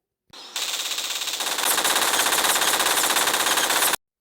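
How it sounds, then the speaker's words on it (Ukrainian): Machine gun on a custom-built tank in Garry's Mod fires a continuous, loud rapid burst of about three and a half seconds, with the rattle thickening partway through before cutting off abruptly. "Є ще такий кулемет."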